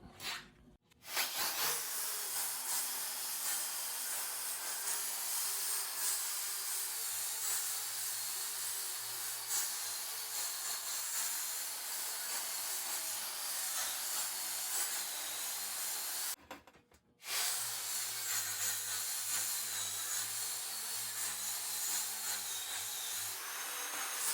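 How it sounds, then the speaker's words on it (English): An angle grinder with a flap sanding disc smooths high spots off concrete, running steadily with a harsh, high hiss and whine, briefly cutting out once before starting up again. "I'm going to smooth this out with the grinder just to knock the high spots off of it"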